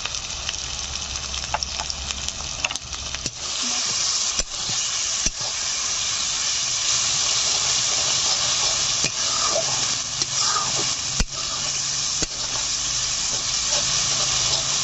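Masala spice paste with salt and turmeric fries in a pan for a lote fish (Bombay duck) curry, giving a steady, close, loud sizzle and hiss with scattered scraping stirs and a few sharp clicks throughout.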